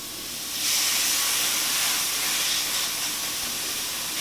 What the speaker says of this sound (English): put our chicken on the grill